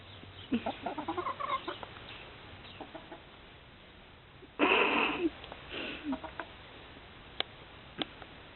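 Chickens cluck and murmur in short bursts while eating cheese snacks, with a louder squawking outburst midway and scattered pecking taps, no talking.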